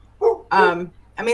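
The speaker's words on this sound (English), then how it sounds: "I'm really sorry if you guys can hear my dog barking" A loud pet dog barks three times in quick succession, close by, with a short spoken phrase overlapping the barks.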